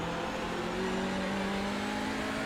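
Hyundai Veloster TCR race car engine on throttle at Oulton Park, a steady loud drone with rising harmonics held throughout as it accelerates out of a corner.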